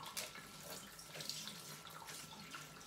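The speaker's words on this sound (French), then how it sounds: "je vais bien le rincer avec de l'eau filtrée" Filtered water runs steadily over konjac rice being rinsed, a soft continuous faucet stream with faint splashing, quiet and alone.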